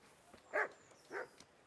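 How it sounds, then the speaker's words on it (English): A dog in the medieval role-playing game Kingdom Come: Deliverance gives two short, fairly near barks about half a second apart against a quiet background. "Barks at me, didn't bark at him."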